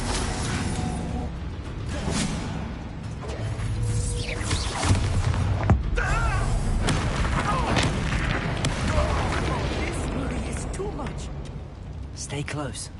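In Hogwarts Legacy on PlayStation 5, a Confringo spell goes off with booming blasts and rumbling, creaking, clanking mechanical sounds that last throughout, with spoken voices over the game sound.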